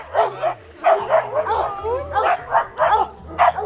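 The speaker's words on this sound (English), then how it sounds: "Sorry, I got some dogs here." Several dogs bark and yip repeatedly in short bursts, loud and close, with some whimpering and a person talking in between.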